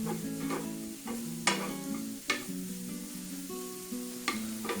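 A stuffed zucchini filling with cracked black pepper sizzles in a pan while being stirred, with a steady frying crackle and periodic sharp scrapes and knocks of the spoon.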